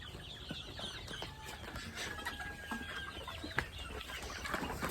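Chickens cluck and chirp steadily in a busy coop, many birds close together with scattered calls overlapping and no talking.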